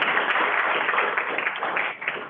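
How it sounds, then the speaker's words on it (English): Brief round of applause from participants at the close of a fisheries workshop, a soft wash of clapping that holds steady and then tapers off near the end. "So I think we should applaud to all of us as well."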